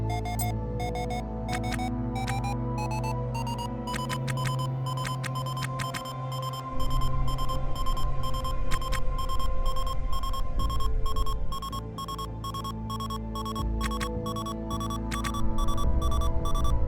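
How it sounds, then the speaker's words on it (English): A proximity alarm in the spaceship game Ostranauts repeats electronic beeping tones at a regular pace over a low humming background, with no voices. "this proximity alarm is for the other ship that's, like, parked next to us"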